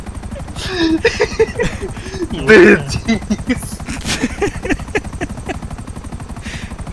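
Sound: helicopter flying in Grand Theft Auto V video game

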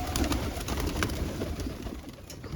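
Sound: pet pigeons cooing

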